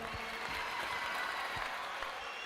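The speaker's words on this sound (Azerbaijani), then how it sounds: "Bir əl çalın görək." Audience applause at the opening ceremony of an MMA league tournament in Qabala, a steady dense clapping wash held at even loudness throughout, with a few stronger claps standing out.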